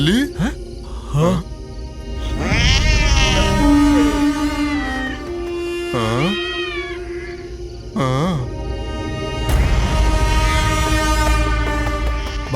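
In a Hindi-dubbed horror film, a cat gives several wavering, drawn-out meows spread over the scene, mixed with voices and other loud movie sounds.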